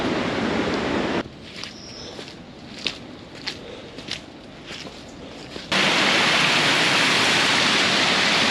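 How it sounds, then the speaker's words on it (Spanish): A loud, rushing waterfall roar in Itacaré, Brazil, at the start cuts to quieter footsteps and rustling, then the heavy, steady roar of falling water returns. "La cascada."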